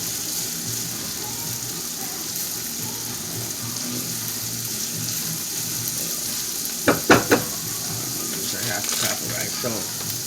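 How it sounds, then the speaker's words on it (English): Water boiling in a pot on a home kitchen stove before rice goes in: a steady bubbling, hissing simmer, with a few brief clatters midway. "So, you see I got that nice and boiling."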